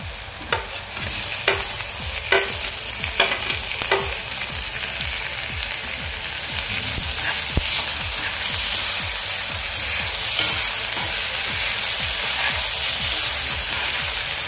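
Chopped onion and tomatoes sizzle and fry in a pan for aubergine bharit, a steady loud hiss with a few sharp scraping stirs early on, then a continuous crackling frying sound.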